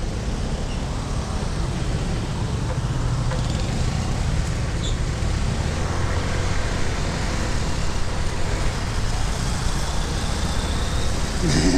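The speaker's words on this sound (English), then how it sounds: "I love the chaos here and the traffic in the Philippines" Busy street traffic in the Philippines, a steady dense wash of car, motorbike and bus engines rumbling close by, continuous and loud with no clear breaks.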